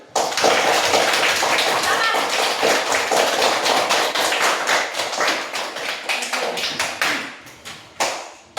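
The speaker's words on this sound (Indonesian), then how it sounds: "Tepuk tangan dulu" A class claps hands in a classroom, fast and sharp. The claps are loud and near and form a dense rhythmic burst that thins into a few scattered claps at the end.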